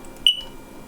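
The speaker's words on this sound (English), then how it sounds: "I have to go to the store tomorrow and buy a 9-volt battery for that smoke alarm" A single short high chirp from a smoke alarm signalling a low 9-volt battery, heard once indoors against a quiet background.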